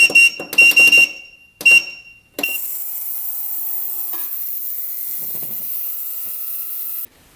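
Ultrasonic cleaner running with a motorcycle carburetor submerged inside, a steady, loud high-pitched hiss that switches on after a few beeps and holds evenly for several seconds before cutting off.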